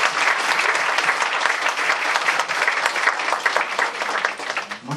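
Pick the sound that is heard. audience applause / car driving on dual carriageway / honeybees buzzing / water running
audience applause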